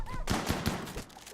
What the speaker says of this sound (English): Sorry, what was that? Gunfire?